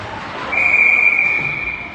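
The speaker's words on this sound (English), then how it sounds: "We get a whistle." A referee's whistle at a youth ice hockey game gives one sustained, shrill blast of about a second and a half, loud and close against the arena's background noise.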